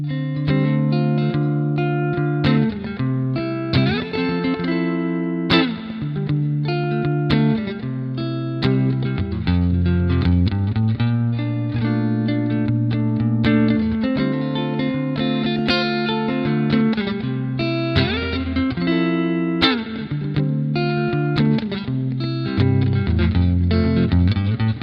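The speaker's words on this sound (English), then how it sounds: "this is a Fender Twin Reverb." An electric guitar played clean through a Fender Twin Reverb amp, a continuous run of chords and single notes with steady strumming rhythm and some reverb, close and loud, with no talking.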